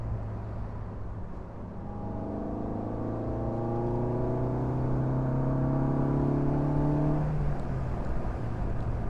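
A 1994 Mazda Miata accelerates on the road, its engine note rising steadily through the revs for several seconds before dropping off near the end, over constant road and wind noise.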